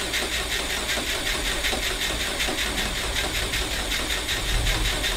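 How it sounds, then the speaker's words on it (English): A classic air-cooled VW Beetle engine turns over on a bench starter for its first crank, a steady, loud mechanical churning that holds constant without catching into a run. "This is for the first time cranking the motor."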